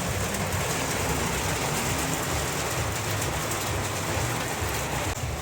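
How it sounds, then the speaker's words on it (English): Heavy rain pours steadily onto and around a Ford E350 van, a dense, loud, unbroken hiss and patter that continues for the whole stretch with no voices. "yeah, I didn't expect it to rain today."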